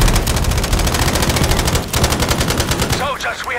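Dense, loud automatic gunfire from the Battlefield 5 video game rattles continuously in rapid bursts, with a brief break before more firing and a faint voice near the end.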